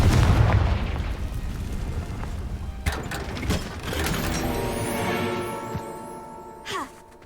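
A Confringo fire spell explodes in the Hogwarts Legacy video game with a heavy low boom that rolls into a long rumbling tail, followed by a few sharp cracks and a brief swooshing sound effect near the end.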